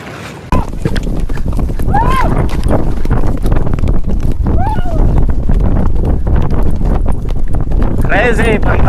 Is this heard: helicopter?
no